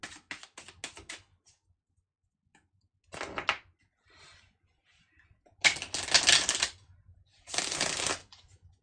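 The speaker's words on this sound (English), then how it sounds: "let me reshuffle then" Tarot cards being shuffled by hand in several separate bursts of crisp riffling, each lasting a second or so, close and fairly quiet, with silent pauses between them.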